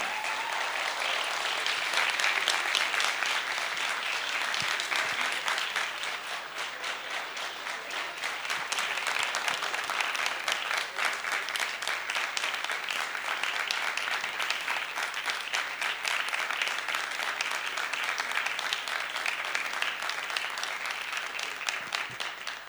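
Sustained audience applause at a PNCA stage event welcoming Ustad Abdul Sattar Tari Khan, a dense, steady wash of clapping from a large crowd that holds level without a break.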